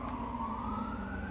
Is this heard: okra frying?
no